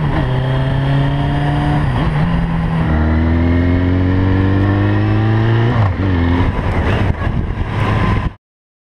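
Motorcycle engine revving as the throttle is opened, loud and close, with pitch climbing in repeated sweeps, dropping, and rising again over several seconds before cutting off abruptly.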